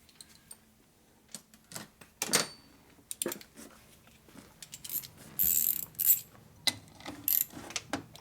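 A 3/8-inch ratchet turns a bolt on a 1952 Harley-Davidson Panhead during a rusty carburetor rebuild, giving bursts of close mechanical clicking and scraping with short pauses between strokes.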